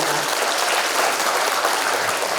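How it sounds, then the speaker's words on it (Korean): Audience applause at a book launch event in Korea, a steady dense wash of many hands clapping at fairly loud level throughout, with no voices over it. "다시 한번 큰 응원의 박수 부탁드리겠습니다."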